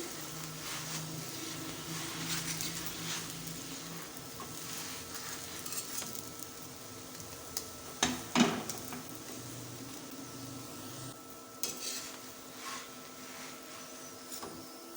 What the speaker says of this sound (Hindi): इस तरह से हमने साइड चेंज करते हुए पराठों को अच्छे तरीके से फ्राई कर लेना है।